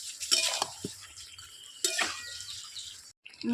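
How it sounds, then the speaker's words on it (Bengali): Capsicum chicken being stirred in a pan over low heat, with a couple of scraping clinks of a utensil against metal and a faint sizzle, fairly quiet and close. "তো এটা আমি এবার হালকা আঁচে আমি কষাতে থাকবো"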